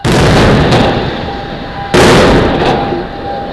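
An unstable building in Bonapriso, in Cameroon's economic capital, is demolished by explosion: two loud, booming blasts about two seconds apart, each trailing into a sustained rumbling roar.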